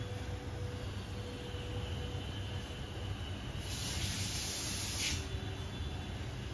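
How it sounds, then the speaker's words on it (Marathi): Water for jackfruit biryani rice comes to a boil in a pot, giving a steady close hiss with a brief stronger rush near the end. "आता बघा पाण्याला उकळी यायला सुरुवात झाली."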